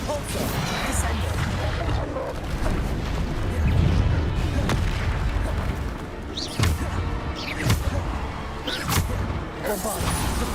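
Bombarda spell blasts in the video game Hogwarts Legacy: several heavy booms and crashing impacts land at irregular intervals over rumbling game effects, with a voice heard calling out around them.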